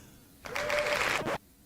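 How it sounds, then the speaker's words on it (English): A short burst of applause-style clapping from a sound effect played back, about one second long, moderately loud and alone, with faint tonal noise underneath. "That's a lot of applause right there."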